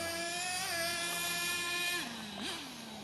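An HPI nitro 4.1 engine in an RC car screams at high revs nearby, holding a steady whine, then dipping and briefly rising again as the throttle changes.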